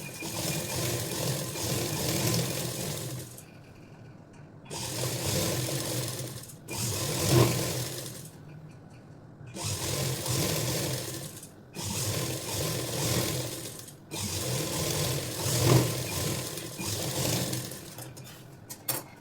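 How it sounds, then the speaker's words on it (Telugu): Sewing machine running in several long bursts, top-stitching along a long frock, each steady mechanical whir broken by short pauses as the fabric is repositioned, close and loud with no talking. "ఇప్పుడు పై వైపున ఇంకొక టాప్ స్టిచ్ అనేది వేసేసుకోవాలి"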